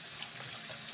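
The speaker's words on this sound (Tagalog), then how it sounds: "Wait lang ha, maghugas mo ako kamay." Hands are washed under a running kitchen tap, a steady close hiss and splatter of water falling into a sink with no talking.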